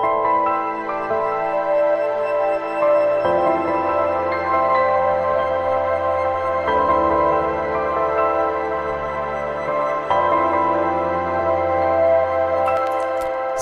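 A slow, melancholy piano melody with a muffled, filtered tone, sustained chords shifting every few seconds, playing alone without voices.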